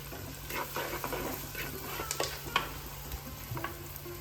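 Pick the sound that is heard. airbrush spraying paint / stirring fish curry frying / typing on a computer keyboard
stirring fish curry frying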